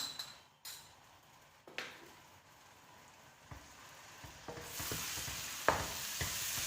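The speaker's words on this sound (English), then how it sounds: "Add the ginger garlic paste," Ginger garlic paste sizzles and fries in a hot pan while being stirred. Scraping strokes come in uneven bursts, and the crackling frying noise swells louder toward the end.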